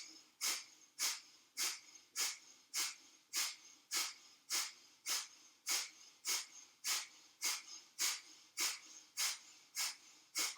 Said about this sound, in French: Et on va pratiquer Kapalabhati.